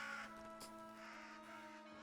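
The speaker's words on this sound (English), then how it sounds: "This must be the crows we were hearing." Crows cawing in the video game Reka, a few harsh caws ringing out over a steady bed of in-game ambience and music tones.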